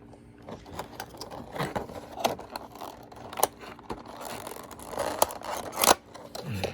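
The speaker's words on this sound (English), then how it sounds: "utilize the collector-friendly packaging by flipping this tab up and over, and then sliding the card out to remove the figure" Plastic collector-friendly toy packaging being handled up close: a tab flipped over and a card slid out to free an action figure, with irregular crinkles, clicks and scraping rustles, a louder snap near the end.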